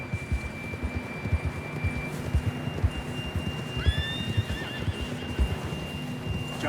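A horse in the video game Red Dead Redemption 2 gives a sharp whinny midway through, heard over steady clip-clop hoofbeats and a faint background hum.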